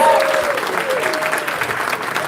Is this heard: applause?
yes